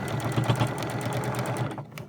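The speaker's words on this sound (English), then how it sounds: "remember to change your machine back to normal stitch" A sewing machine runs a straight stitch through fabric while sewing hospital scrubs, a steady close whirring hum with fast even needle ticks that carry on without a break.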